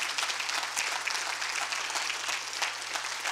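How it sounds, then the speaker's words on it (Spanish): A church congregation claps loudly and steadily in a full, continuous wash of applause filling the room for the whole few seconds, with no voices standing out. "De un fuerte aplauso al Rey de Gloria"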